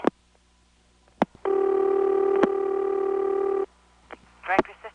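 Ringback tone on a March 1977 long-distance call through an NX1 switch in Greenwood, South Carolina: one steady multi-harmonic buzzing ring of about two seconds, preceded and followed by clicks, then a brief voice.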